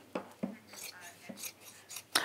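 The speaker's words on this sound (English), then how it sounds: "The crunching of quality scissors on the fabrics." Quality sewing scissors crunch through fabric in a few distinct snips, close and quiet, each cut a short crisp rasp spaced irregularly over two seconds.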